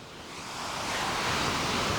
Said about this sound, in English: You can see a spectacular waterfall, an amazing waterfall,